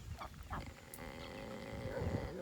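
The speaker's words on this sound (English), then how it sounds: "all the guinea fowl are up here, all together by the looks of it" Guinea fowl gathered together on a farm give repeated harsh, rattling calls in short bursts, fairly close, with other farm birds and background noise around them.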